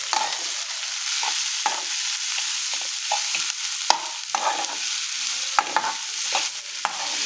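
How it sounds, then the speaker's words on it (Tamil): Onion and chili stir-fried in a pan for Guntur karam dosa, a steady close sizzle with repeated scraping and clacking strokes of the spatula throughout, no voices. "ஆனியன், அதோடவே சில்லி இருக்குது. அதை ஒரு 2 மினிட்ஸ் நல்லா வதக்கிக்கணும்."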